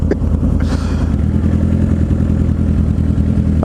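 Motorcycle engine droning steadily while riding near a beach, a loud, close low rumble with rattling clatter and a slight rise in revs, no talk.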